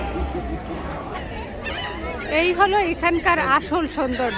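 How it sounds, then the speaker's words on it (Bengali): Seagulls calling at a seafood spot on City Island: several bright, wavering cries in the second half rise over a steady babble of nearby chatter and someone talking throughout. "এই সিগাল পাখিগুলো ডাকতেছে,"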